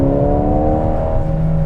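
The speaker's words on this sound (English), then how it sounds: "even though it's a 2-liter, it doesn't sound bad. It really doesn't sound bad. You heard the exhaust a little bit." A 2021 Mercedes-AMG GLA35 with a 2-liter engine accelerates, its exhaust giving a loud, steady droning tone that climbs slightly in pitch, close up and unaccompanied by speech.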